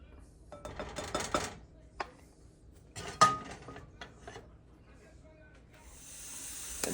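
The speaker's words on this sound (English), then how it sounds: "I push it through the sieve using a wood spoon or a spatula" A wooden spoon pushes and scrapes pastry cream through a metal sieve, giving quiet, intermittent scraping strokes and light taps with pauses between them.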